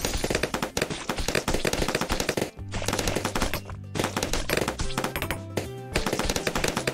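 Rapid repeated gunfire from a sniper tower in the video game Bloons TD 6, dense cracking shots layered over game music, loud and continuous.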